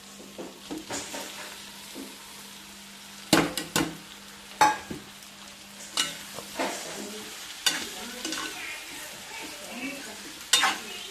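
Large chunks of cut potato are stirred as they fry in hot oil for an aloo curry, giving a steady sizzle with repeated sharp clanks and scrapes of the spoon against the pan.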